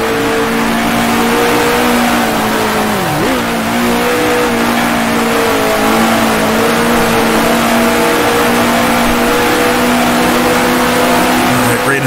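A 1966 Formula One race car engine in Grand Prix Legends, a steady loud high-revving drone held in fifth gear with one brief dip in pitch, continuous and alone.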